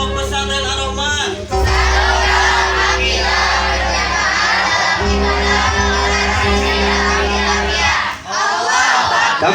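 A large crowd at a school graduation and class-promotion ceremony at an Islamic boarding school shouts and cheers loudly and continuously, with a brief dip near the end and some voices rising above the roar.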